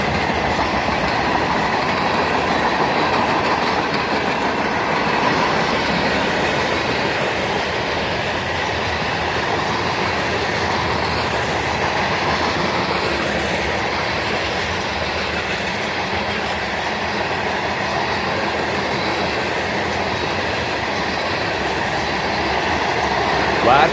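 A CSX freight train made up of many covered hopper cars rolls past in a steady, loud, continuous rumble and rattle of wheels that holds for the whole stretch, with no voices.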